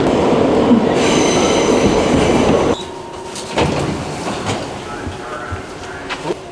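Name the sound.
subway train at Times Square 42nd Street station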